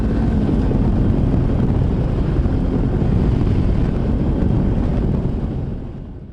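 Honda CB500X adventure motorcycles climbing toward a lookout, a steady loud engine drone heavily buffeted by wind across the microphone, holding constant before easing off at the end.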